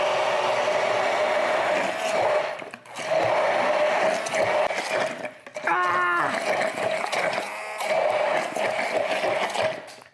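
A loud blender mixing a banana chocolate protein shake whirs steadily on high in long runs, with brief pauses and a short higher-pitched moan partway through.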